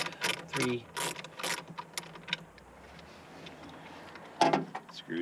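A 7mm ratchet works screws loose on a 2005 Ford Explorer Sport Trac, quick bursts of close clicking pawl strokes separated by pauses, with a brief spoken remark.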